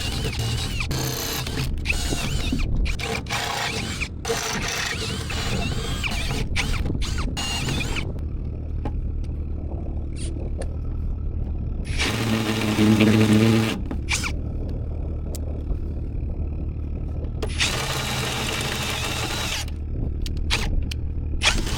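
Power drill boring holes from the top through a marine window panel with tape underneath, heard in several bursts of whirring separated by quieter gaps, one longer loud burst in the middle, fairly close.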